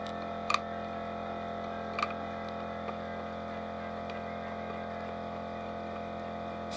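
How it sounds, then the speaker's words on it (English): An air compressor runs with a steady droning hum and motor tone throughout, joined by a few sharp clicks and ticks, moderately quiet and close, in a workshop. "Sorry, compressor's running."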